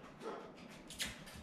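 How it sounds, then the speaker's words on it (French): A dog gives a couple of short, moderately loud yips or barks, the sharpest about a second in, over a faint steady background. "Mon chien qui jappe."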